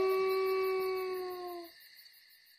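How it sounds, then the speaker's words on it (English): A lone wolf gives one long, sad, mournful howl that holds a clear steady pitch and then cuts off, leaving quiet behind it. "The wolf followed him for a while. Then he sat down and howled."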